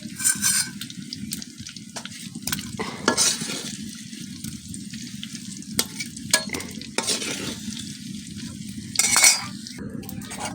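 Fried potatoes are scooped from a hot oil wok, with scraping and metal clinks over a steady low sizzle, close and fairly quiet, with no voices.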